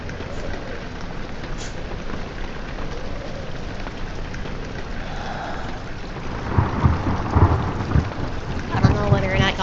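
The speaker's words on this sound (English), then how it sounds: "I've got my little lightning lamp here in the background" Thunderstorm sounds from a small lightning lamp in a room: steady rain-like hiss with low rumbling thunder throughout, growing louder and busier toward the end, with no talk.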